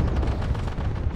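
Tank main gun firing at a T-14 tank in a combat video game, a heavy, loud blast with a rumbling low roar that fills the short moment.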